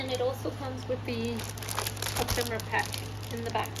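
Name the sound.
crinkling packaging of a collection kit being opened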